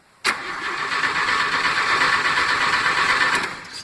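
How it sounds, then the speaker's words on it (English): A car engine cranks over steadily for about three and a half seconds without catching, a close, loud, even whirring churn from the starter that begins abruptly and then fades out. "So I'm going to crank it over and see if it does anything."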